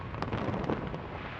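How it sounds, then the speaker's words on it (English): New Year fireworks display over Sydney Harbour, a dense continuous barrage of booms and crackling bursts rolling from a distance, with crowd noise blended underneath. "6 tons of fireworks over Sydney Harbour in front of crowds"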